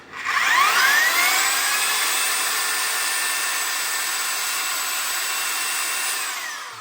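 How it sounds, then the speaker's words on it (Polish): An electric drill whines continuously at high speed for several seconds, spinning up sharply at the start and winding down at the end, close and loud. "Jest wiertara?"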